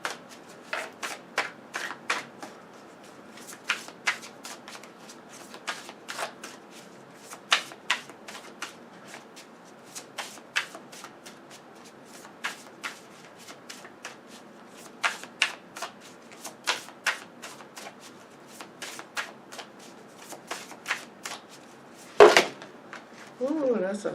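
Oracle cards being shuffled by hand, a string of crisp riffling bursts and soft flicks at an uneven pace over about twenty seconds, close and fairly quiet, with a brief knock near the end.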